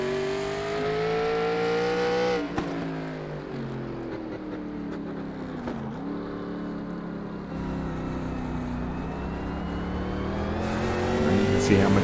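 A race car at the 2020 Mid-Ohio National Series circuit is close by, its engine revving up in pitch. It drops sharply as the driver lifts off for braking, then climbs steadily again.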